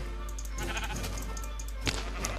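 Sheep bleating in the video game Minecraft, a couple of short bleats over steady game background noise, with a brief sharp sound near the end.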